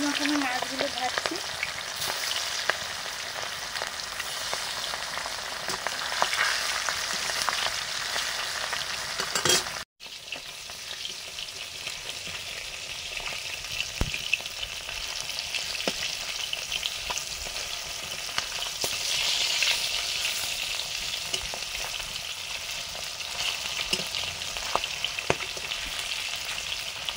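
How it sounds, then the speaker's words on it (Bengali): Rohu fish frying in a pan, a steady close, broadband sizzle and crackle running throughout with occasional stirring scrapes and a brief dropout near the middle; no talking. "মাছগুলো ভাজছি"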